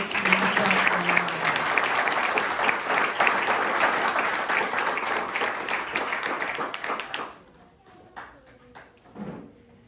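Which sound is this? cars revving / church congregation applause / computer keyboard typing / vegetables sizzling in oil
church congregation applause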